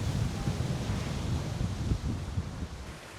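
Gusty wind buffets the microphone in the old town of Agüimes on Gran Canaria, a steady close rumble with uneven low thumps throughout.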